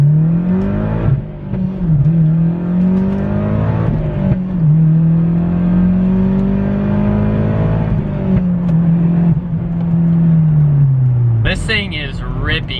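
Mazdaspeed 6 with solid shifter bushings accelerating hard through the gears on an empty road, loud close engine rising and dropping with each shift, with a voice talking over it.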